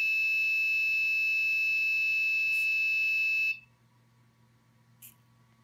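A loud, steady electronic buzzer tone from an Arduino setup sounds nonstop for several seconds, then cuts off abruptly, leaving quiet hum and a couple of faint clicks.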